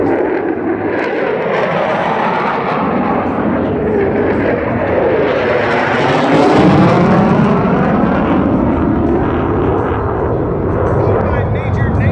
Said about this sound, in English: as they fly by, the F-35s of the 6th Squadron.